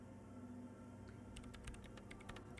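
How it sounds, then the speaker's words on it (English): Keys tapped on a terminal keyboard in a video game, a short burst of light clicks in an uneven rhythm over a steady low hum, fairly faint and with no voices. "She's behind the keyboard now, typing in some numbers that only she understands."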